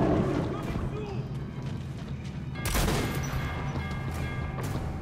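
Rapid automatic gunfire from a gun in the shooter game Metro: Last Light rattles in a dense, continuous stream with a heavier blast near the middle, mixed with someone talking.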